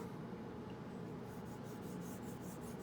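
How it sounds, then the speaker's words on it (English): Straight razor steel is drawn across a coticule honing stone in a faint, steady scraping rasp that continues through the clip, with slightly stronger strokes toward the end. "I'm just dragging steel across the stone."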